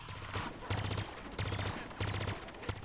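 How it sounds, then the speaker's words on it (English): Fast, quick plasma bursts from a carbine pulse rifle in Halo Infinite, fired in three tight volleys of rapid pulses, loud and close, with no talk over them. "the look and the feel of when you shoot that weapon, it fires like these fast, quick bursts of plasma"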